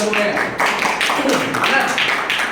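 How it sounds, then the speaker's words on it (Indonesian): A group claps together at a teacher workshop session, a quick burst of tapping applause mixed with voices talking over it. "Tepuk tangan buat kita semuanya."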